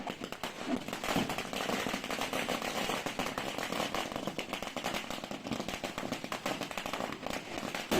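A long string of firecrackers bursting in a rapid, dense crackling series at a festive Perunal celebration, continuous and fairly loud for the whole stretch with no talking.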